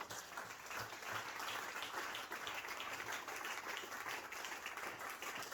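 A church congregation applauds during a French-language sermon, producing sustained, moderately distant clapping that fills the whole stretch with a steady wash.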